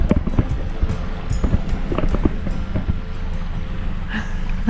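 A Nordhavn motor yacht sits idling at sea, with a low steady engine rumble mixed with wind buffeting and water sloshing against the hull, plus a few knocks and clatters.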